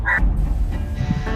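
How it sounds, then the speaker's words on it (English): A dog gives a short, close bow-wow bark, a single brief burst with some rough background noise. "That's my dog being a knob."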